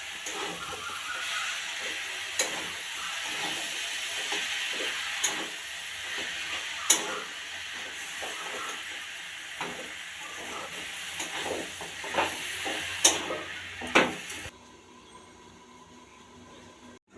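Potatoes, lote greens and boiled pumpkin leaves fry together for a shak chorchori with a continuous soft hiss and scattered clicks of stirring, then the sizzle drops away abruptly near the end.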